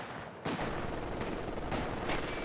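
MG42 machine gun in the video game Company of Heroes 2 firing at long range: dense, continuous rattling bursts with a few swells in intensity, fairly quiet and without speech.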